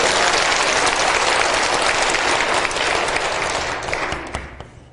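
A church congregation breaks into loud, vigorous applause, a dense wash of clapping that holds strong and then thins and fades in the final second.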